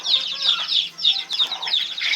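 Rhode Island Red cross chicks cluck and peep continuously in a brooder cage, a busy overlapping chorus of high chirps, close and fairly loud, with no talking.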